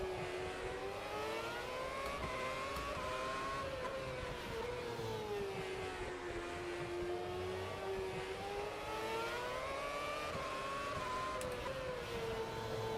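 A Formula 1 race car engine in the Automobilista 2 video game drones steadily and continuously at a fairly quiet level, its pitch rising and falling gently through gear changes and throttle shifts.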